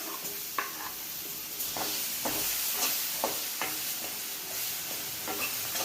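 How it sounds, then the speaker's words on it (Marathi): Onion fries in a pan with green chillies and spices in oil over a lowered gas flame, giving a steady close sizzle and hiss, with repeated soft scrapes of a spoon stirring through it. "याच्यातच टाकू कांदा"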